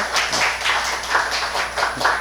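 Congregation at a Korean Easter Sunday church service clapping in thanks, a loud, close, rhythmic burst of many hands beating in a steady pulse.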